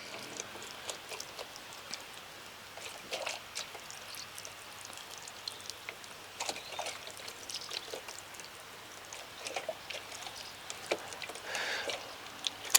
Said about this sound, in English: So I just give these seeds a watering to help them get started with their germination.